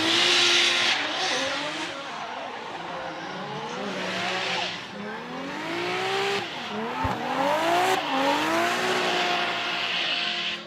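Drift cars at Okayama International Circuit scream through a corner with high revving engines and squealing tires, the pitch rising and falling as they slide, one car spinning out amid sustained loud, close tire noise.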